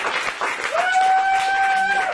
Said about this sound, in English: we're clapping for that?